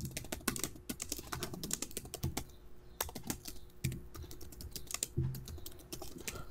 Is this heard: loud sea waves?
no